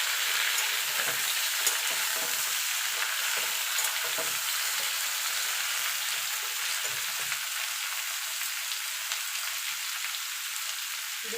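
Ridge gourd and potato pieces sizzling together in a pan while being stirred, a steady close hiss of frying with soft scraping movements throughout and no talking.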